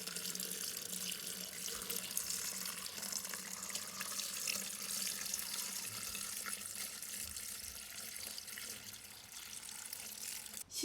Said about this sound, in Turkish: Şimdi suyumuzu koyalım kabımıza.